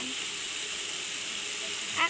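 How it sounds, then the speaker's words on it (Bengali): Taki fish with mashkalai dal sautéing in a pan, a soft steady sizzle running throughout at low level, with a brief clink or scrape of stirring near the end. "এখন ভালোভাবে কষিয়ে নেব।"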